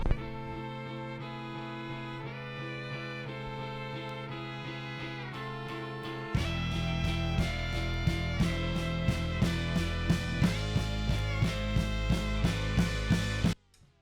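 Music starts with sustained tones, then shifts into a loud, fast-paced section with punchy rhythmic hits and bright horn-like tones, ending abruptly.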